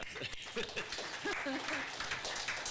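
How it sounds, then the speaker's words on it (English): Brief applause at a city council regular meeting, a soft, steady patter of scattered clapping from the chamber audience, mixed with overlapping voices and light chatter throughout. "I'll give you a round of applause"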